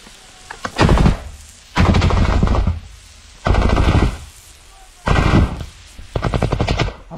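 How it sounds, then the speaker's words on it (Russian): Bursts of automatic rifle fire in a combat setting between Ukrainian and Russian soldiers: five loud sustained volleys, each about a second long, separated by short pauses, close and harsh, with no talk over them. "Автомат, автомат, автомат!"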